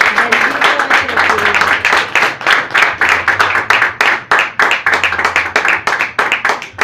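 A church congregation claps in a strong, rhythmic unison beat, loud and close, with a low sustained musical tone underneath at times.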